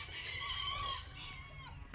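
Chickens and a rooster on a farm, with a crow-like tonal call rising over a steady background of clucking fowl, fairly close, followed by a brief sharp sound near the end.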